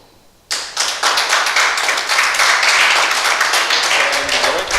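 An audience bursts into loud, dense applause after a brief quiet moment, the clapping sustained and steady throughout, with faint voices mixed into the crowd noise.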